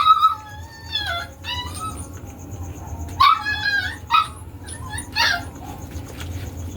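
A dog whimpers and yelps in high, wavering cries, broken by a few short barks in irregular bursts, fairly close, with low background hum throughout.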